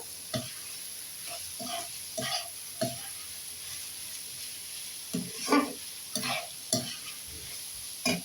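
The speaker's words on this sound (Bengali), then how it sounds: "এই যে প্রথমে দিয়ে দেবো আপনার হলুদ ক্যাপসিকামটা, একটু নেড়ে নিয়ে আগে।" Yellow capsicum sizzles steadily in hot oil in a pan while being stir-fried for fried rice, with several sharp scraping stirs breaking through the close frying hiss and no talk.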